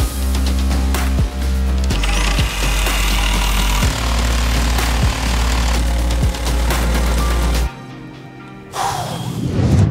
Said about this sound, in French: Là, on dégrossit la scie sauteuse.